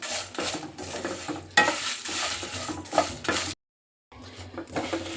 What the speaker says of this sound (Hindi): पैन गरम हो चुका है दोस्तों और इसमें मैं ये मसाला डाल रही हूँ भूनने के लिए।